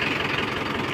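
A tractor engine runs close by at a steady idle, a dense low rumble with a rough, knocking texture and no break, on a farm by a village river where a channel is being dug.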